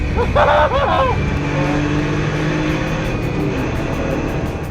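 A Citroen C1 race car engine at Spa during a 24-hour race, heard from inside as a loud, steady droning engine note with a brief louder burst at the start, close and continuous.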